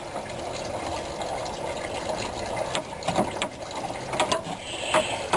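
A ratchet wrench with a 1/2-inch socket loosens a bolt on the radiator of a 1995 Ford F-150 pickup, giving close, rapid metallic clicking that grows busier toward the end over a low background hum.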